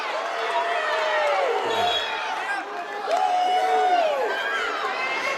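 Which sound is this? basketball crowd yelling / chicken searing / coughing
basketball crowd yelling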